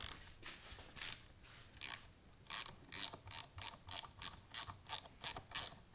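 A ratchet wrench turning out the 8 mm shifter bolt on a Honda CR125 dirt bike, close and fairly quiet, starting with a few spaced clicks and settling into a steady run of rhythmic ratcheting strokes.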